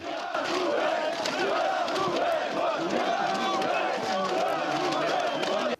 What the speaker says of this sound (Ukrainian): Вони вигукують гасла та розкачують автівку.